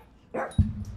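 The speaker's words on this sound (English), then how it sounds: "Very ferocious dog, that little chihuahua" A little chihuahua named Brutus lets out one short, sharp close-up bark, with a brief muffled bump just before it, heard alone in a quiet room.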